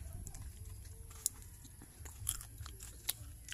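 Someone eating peanuts up close, with soft crunching chews and a few sharp cracks at scattered moments over a low, quiet rural background.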